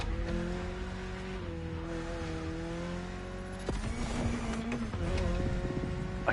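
A car in The Crew Motorfest racing game slides sideways with a steady engine drone and tire noise, the engine swelling louder toward the end.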